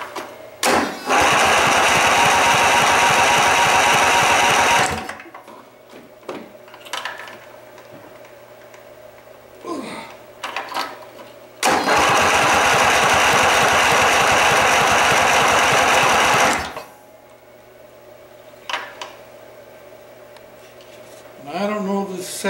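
Vanguard 12.5 hp small engine on a riding mower, cranking and catching twice into a loud, steady, rattling run that lasts several seconds each time, with quieter stretches of clicks and handling noise between the runs.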